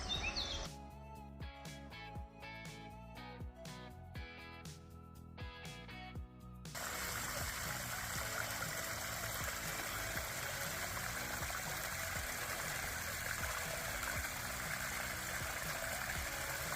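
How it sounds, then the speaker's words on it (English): A small waterfall and stream on the Camino del Norte give a broad, steady rush of flowing water that fills the background, preceded by a stretch of louder rhythmic tones before the water sound takes over. "there's a little waterfall over there."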